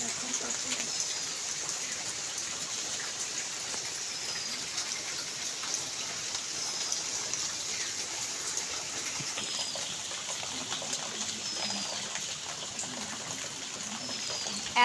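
Heavy monsoon rain pours down in a constant, even hiss of drops that holds at the same level from start to finish with no voices.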